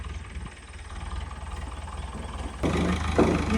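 A Royal Enfield Bullet motorcycle engine idles on a cold day, a steady low thumping rumble that grows louder and rougher near the end, with no talk.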